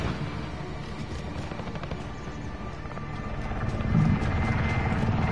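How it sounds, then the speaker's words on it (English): Attack helicopter in the shooter game Warzone, a steady rotor drone with dense battle noise and scattered gunfire, growing louder and closer near the end. "there's an attack chopper also providing anal pay to us"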